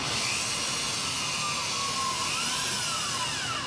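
Power drill driving a screw into a cedar privacy fence, with a loud, steady, high-pitched whine held for several seconds at close range over broadband noise.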